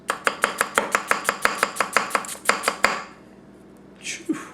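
A Tanaka Kurouchi 210mm gyuto with a 2000 grit edge chopping onion on a cutting board: about fifteen quick, evenly spaced crisp knocks in a steady rhythm, close and loud, then a pause and a brief soft rustle.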